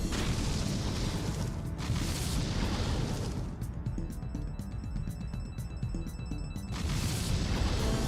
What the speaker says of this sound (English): Congrats, you used Explosion to take out one of my 5 remaining Pokemon.